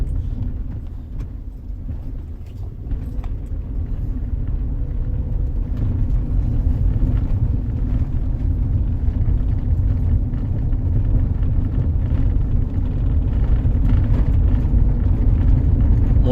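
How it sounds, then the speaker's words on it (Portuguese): A Ford Edge engine runs steadily while the car drives downhill, a continuous low rumble with road noise throughout, moderately loud and without talk. "O motor está trabalhando bem legal"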